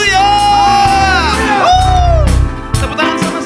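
A church congregation at a New Year worship service shouts and cheers in a loud, close roar of voices, with a strong sung or shouted tone rising and falling before the noise breaks up.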